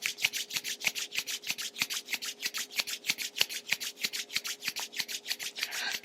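Palms rubbing briskly together to build warmth during a yoga class, a steady run of quick, close, dry friction strokes repeating rhythmically for several seconds with no talking.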